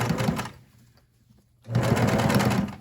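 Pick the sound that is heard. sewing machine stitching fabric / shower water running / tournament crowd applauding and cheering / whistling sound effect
sewing machine stitching fabric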